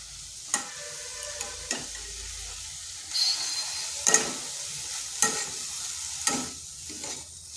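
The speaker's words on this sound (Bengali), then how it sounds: "আঁচটা মিডিয়াম আঁচে রেখে এইভাবে ভেজে নিতে হবে।" Drumstick leaves fry over medium heat in a pan, a soft sizzle broken by about half a dozen sharp scraping stirs at irregular intervals, close and clear with no talking.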